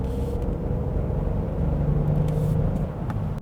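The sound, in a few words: Genesis GV70 SUV driving on road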